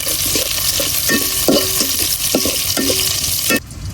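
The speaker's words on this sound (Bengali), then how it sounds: "পেঁয়াজ আর রসুনটা হালকা ভাজে নিচ্ছি" Onion and garlic fry in a pan at close range, a loud, steady sizzle punctuated by several sharp stirring scrapes, ending with a sudden drop in level.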